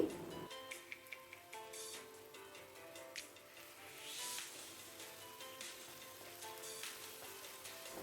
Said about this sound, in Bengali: লবণটা দিয়ে ভালো করে নাড়াচাড়া করে কষিয়ে নিচ্ছি।